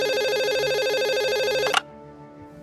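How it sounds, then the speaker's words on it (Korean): An office telephone rings in an electronic warble, loud and close, for almost two seconds, then cuts off abruptly into near silence with a faint tail. "그리고 사무실 전화벨이 울렸어."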